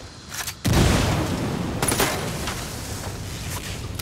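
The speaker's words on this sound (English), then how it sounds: "Grenade, get to cover." In Ghost Recon Wildlands, a grenade bursts with a sudden heavy boom, followed by sustained gunfire and rumbling explosions that carry on loudly for several seconds.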